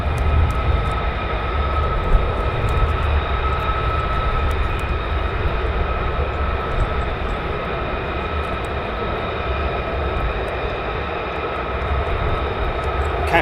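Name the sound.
F-15 fighter jet flying at RAF Lakenheath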